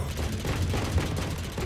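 Rapid gunfire from a gun in the Roblox game Arsenal crackles as a steady, fast stream of shots over a dense, noisy game mix, continuous through the short clip.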